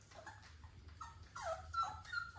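Young farm puppies whimper and yip in short, high, wavering cries, several in quick succession, close and fairly loud with a low hum underneath.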